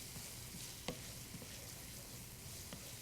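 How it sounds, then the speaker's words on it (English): Sliced potatoes frying in oil with thyme for a Spanish tortilla, a steady close crackling sizzle with scattered small pops and faint stirring, no voices. "let the potatoes kind of heat up a little bit. Crisp up a little bit too while it's sitting in the oil"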